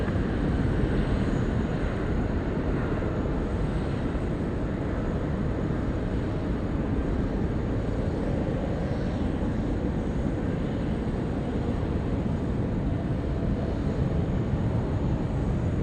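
An airliner lands at Sydney Airport, its engines a broad steady roar that holds at a loud, constant level without a break for the whole stretch.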